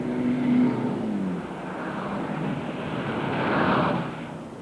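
Cartoon cars drive around in a land of chalk drawings, their engines humming and revving in a continuous drone that swells twice as they pass.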